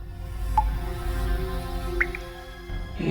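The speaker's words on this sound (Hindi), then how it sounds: "ये पानी टपकने की आवाज है।" Water dripping inside a closed flat, a few sparse, faint drips over a steady low background hum.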